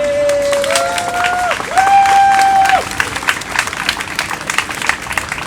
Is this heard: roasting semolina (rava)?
no